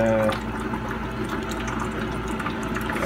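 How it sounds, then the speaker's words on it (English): Water streams steadily from a Keurig coffee maker spout, a continuous hissing pour with a low mechanical hum underneath. "that's a lot more water coming out"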